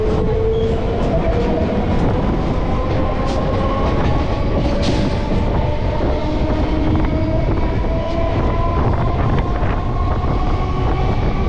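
Passenger train running at speed after leaving Bandel station on the line toward Sheoraphuli, a loud continuous rumble with steady rolling noise, tonal whines and wind buffeting close to the microphone throughout.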